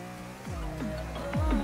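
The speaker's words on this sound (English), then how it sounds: "All right, quarter mile in the E30 BMW M3." A BMW E30 M3 on a quarter-mile run in Forza 6, with the racing engine revving hard and rapid gear shifts giving sweeping pitch drops, loud and steady throughout.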